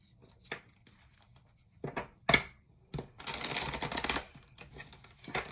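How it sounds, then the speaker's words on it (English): A large oracle card deck being shuffled by hand: scattered soft taps and riffles, then a denser flurry of papery rustling for about a second, close and fairly quiet with no talking. "they make these decks so large, and it's kind of hard to shuffle sometimes"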